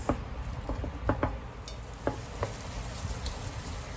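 Butter, onion and minced garlic frying in a pan for a crawfish and shrimp spinach dip, a soft steady sizzle with scattered clicks and scrapes of stirring.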